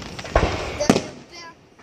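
Two sharp booming bursts from a fireworks finale at a fest crack out about half a second apart, loud and close, with people talking over them.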